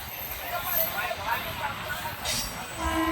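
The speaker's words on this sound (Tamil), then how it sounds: "சென்னை சென்ட்ரல் திருப்பதி மெமு திருத்தணியில் இருந்து கிளம்பி விட்டது" A Chennai Central–Tirupati MEMU electric train pulls out of Tiruttani station with a steady, close, continuous rumble and rushing noise that lasts throughout.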